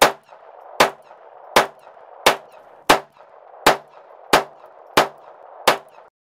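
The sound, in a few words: 22 caliber pistol shooting second magazine at range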